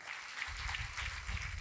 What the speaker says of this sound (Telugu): ఒకసారి మేడం గారికి గట్టి క్లాప్స్ అండి